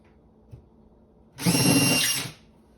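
A power drill with a 5/8-inch bit bores a hole in a wall while a microwave is being installed over a range, giving one short, loud whine of about a second on its own.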